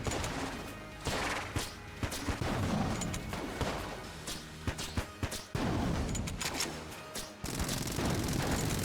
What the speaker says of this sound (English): The explosions from sticky crossbow don't stack, so you get all of the explosions at once